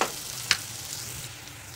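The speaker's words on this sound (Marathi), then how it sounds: "कांदा छान परतून घ्यायचा" Finely chopped onions fry in a pan for vegetable dum biryani, a soft continuous sizzle with a sharp scrape or clink near the start, heard alone.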